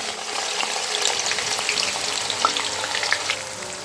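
Three to four medium onions sizzle in hot oil in a kadhai, a dense steady frying hiss with occasional small pops and spatters, close and continuous.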